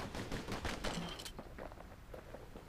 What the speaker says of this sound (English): Know what's better than having a slinger pistol in a fight?